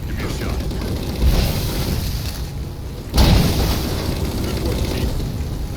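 Railgun shot explosions in Halo 4, two heavy booms, the second sharper and louder near the middle, over a constant rumbling battle backdrop with voices mixed in.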